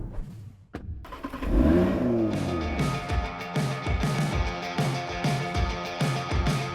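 A Ford Mustang Mach-E electric car pulling away and driving, a rising whine with a rhythmic pulsing hum and clattering road noise, close and fairly loud throughout.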